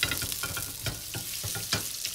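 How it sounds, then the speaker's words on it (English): Unsalted butter melts into extra virgin olive oil in a hot pan, giving a close, steady sizzle broken by soft rhythmic scraping or tapping pulses, with no talking. "Add 1 tablespoon of extra virgin olive oil and half tablespoon of unsalted butter."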